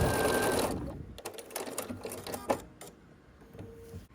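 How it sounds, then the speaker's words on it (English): A sewing machine stitching the final seams of a star pinwheel quilt block, starting with a fast steady whir that slows into separate mechanical ticks and clunks, close and fairly loud. "then you can go ahead and sew your final 2 seams"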